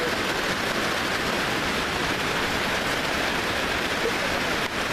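Steady rain at a campsite after dark makes a constant broadband hiss with no break, close and even throughout, and no voices are heard.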